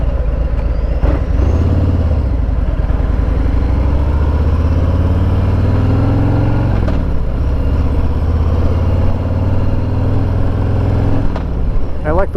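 A 2021 Harley-Davidson Road Glide Limited with the 114 engine rumbles loudly and continuously up close, its pitch rising and falling as the bike pulls along.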